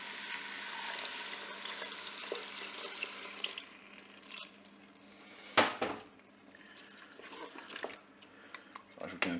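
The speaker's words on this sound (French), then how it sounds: "je vais verser de l'eau et là j'ai émietté le cube de bouillon de bœuf dans l'eau" Water poured into a Cookeo multicooker over crumbled beef stock cube for rice bolognese, a steady splashing stream filling the first few seconds, then quieter with a few clinks and stirring sounds.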